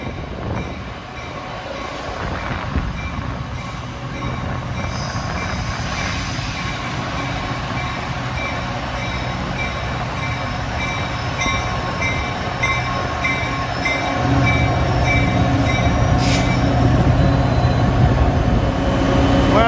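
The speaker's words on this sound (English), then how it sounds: "This engine, the 902, that's one of the screamers that Caltrain has, an F40 PH-2 with the constant speed prime mover." A Caltrain F40PH-2 diesel locomotive, number 902, with a constant-speed prime mover, rolls past with its cars, a loud, continuous roar and rumble of engine and wheels that swells louder toward the end.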